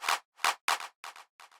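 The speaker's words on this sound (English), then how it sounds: "at the end of this bar I added this clap" Crisp hand-clap samples in a tech house beat: five sharp broadband hits, the later ones doubled into quick flams, each clearly separated by short silences and played alone without other drums.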